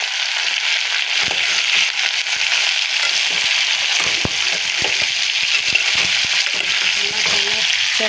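Chillies and small shallots fry in oil in a pan, a steady close sizzle with crackles and a few sharp spatula scrapes as they are stirred, no talking.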